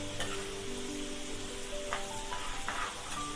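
Masala for shahi paneer sizzles and crackles steadily in hot oil, a close, even frying hiss with scattered pops and no talking.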